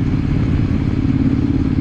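A Triumph Speedmaster 900, an air-cooled parallel twin with a 270-degree crank and EMC shock absorbers, ridden through curves; its engine makes a loud, steady, rumbling drone throughout.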